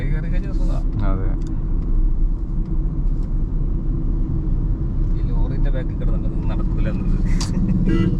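Tata Tiago EV electric car with a 24 kWh battery accelerating on an open road, a steady close road rumble and tyre noise throughout, with someone talking over it.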